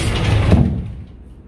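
A drawer in a hotel room slides open with a close, rushing scrape that fades quickly into a quiet room tone.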